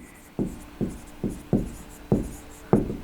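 Writing on a board, heard as six evenly spaced strokes in a steady rhythm, each a short scratchy tap, close by and with no talk.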